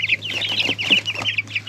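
Young pullets in a coop cluck in quick, repeated bursts, a busy close-up chatter of several birds with no voices over them.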